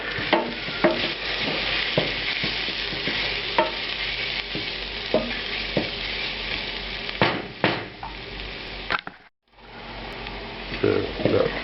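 Ginger and garlic cook in a pan, with a loud, continuous sizzle broken by frequent scraping stirs and utensil knocks, a brief gap near the end, then more sizzling.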